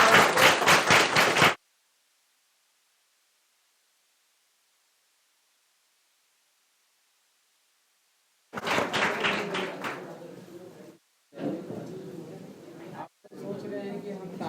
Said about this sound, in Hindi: सोच रहे हैं कि हम तालियां क्यों बजा रहे